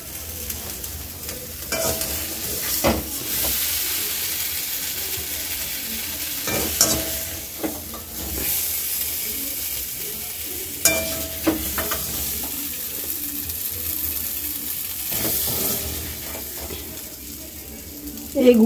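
Mango pieces cooking in jaggery are stirred in a pan, giving a soft steady sizzle with intermittent scrapes and clinks of the spoon, close by with no talking.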